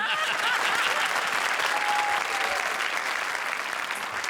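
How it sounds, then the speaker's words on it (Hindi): Studio audience on the comedy show Comedy Circus 2 gives a loud, sustained round of applause, dense and steady throughout with no voices on top. "जोरदार तालियां शान शकील के लिए"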